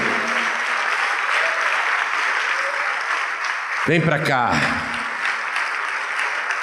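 Steady, sustained clapping from a large crowd fills the whole stretch, with a voice briefly calling out over it near the end.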